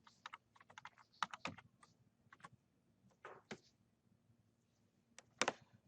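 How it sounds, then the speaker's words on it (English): Quiet, close typing of a search term on a computer keyboard, bursts of light key taps with short pauses and a few firmer strokes, no speech over it. "we'll type in petroleum"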